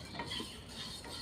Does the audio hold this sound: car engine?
no